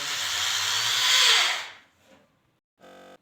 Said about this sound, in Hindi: जैसे स्विच ऑन करता हूँ तो ये ड्रिल है जो अच्छी तरह से वर्क कर रही है